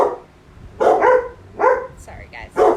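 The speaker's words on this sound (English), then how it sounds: "There are my dogs." Several dogs bark outdoors at a rural home in a few separate loud bursts, each a short cluster of barks with quiet gaps between.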